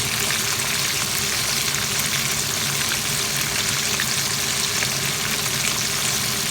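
Steady, loud sizzling of frog coated in plain rice-flour batter, pressed against the pan while frying, a continuous crackling hiss with no voices.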